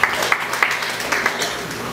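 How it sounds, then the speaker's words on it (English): A church congregation claps together, a dense, steady patter of hands lasting throughout, fairly loud and close. "Let's give God a clap of praise."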